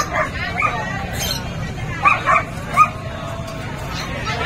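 Teacup Pomeranian puppies give short high yips and whimpers in a few quick bursts, close by, over a steady murmur of people in the background.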